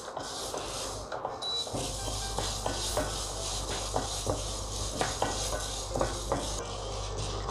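Green gram is dry roasted in a pan for a homemade health mix, with continuous scraping and rattling stirs and light clinks of a spoon against the metal beneath a low hum.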